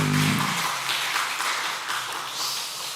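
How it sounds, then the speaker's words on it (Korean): A church congregation applauding in encouragement during a Wednesday worship service: a loud burst of clapping from many hands at once that gradually thins and fades over a few seconds. "격려의 박수 해주시길 바랍니다"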